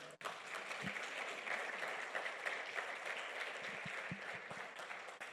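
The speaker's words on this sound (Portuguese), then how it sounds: "Você pode aplaudir o Senhor?" Church congregation applauding steadily throughout, a dense wash of clapping with a few low thumps, moderately distant.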